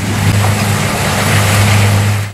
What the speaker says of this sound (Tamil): இந்த கருவியை டிராக்டர் அல்லது மின்சார மோட்டார் கொண்டு இயக்கலாம்